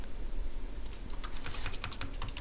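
Keys clacking on a computer keyboard as code is typed, a quick irregular patter of taps that grows busier and denser in the second half, with a steady low background hum underneath.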